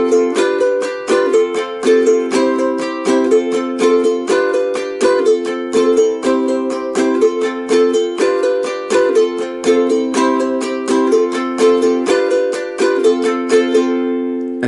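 Ukulele strumming two bars of a song's solo, sharp rhythmic strokes with catches and taps repeating in a steady, bright pattern, played alone and close.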